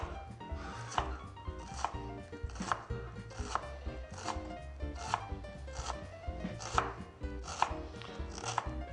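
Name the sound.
knife chopping vegetables on a cutting board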